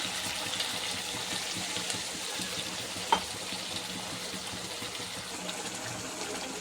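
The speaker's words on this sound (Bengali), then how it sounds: "সামান্য একটু পানি দিয়ে দেবো" A little water is poured into chicken curry after the meat has been browned with spices, giving a soft, steady sizzling hiss with a brief splash midway and no speech.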